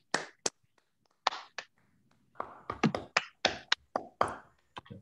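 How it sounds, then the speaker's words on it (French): A few online meeting participants clap over open microphones, producing sparse, uneven bursts of close claps with quiet gaps between them. "Je vous demande d'ouvrir vos micros pour applaudir Yves Niedegger."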